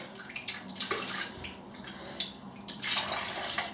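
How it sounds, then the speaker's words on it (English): Water runs from a tap over a shaving brush, a close, splashy stream in uneven bursts with spattering as the bristles are wetted, and no voices. "I'll just quickly wet my brush"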